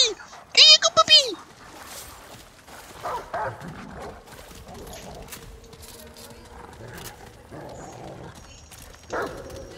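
Dog vocalizing in the Remnant video game, with a short burst of barks and yips near the start followed by quieter whimpers and ambient game noise underneath.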